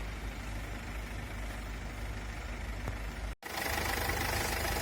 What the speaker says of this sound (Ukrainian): зараз мотор працює